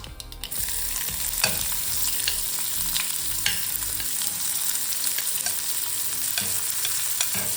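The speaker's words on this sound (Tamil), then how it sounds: "இப்போ வெங்காயம் போட்டுக்கலாம்." Onions sizzle and fry in hot oil with popped mustard seeds and reddened urad dal, being stirred with steady crackling and occasional scraping clicks, close and continuous with no talking.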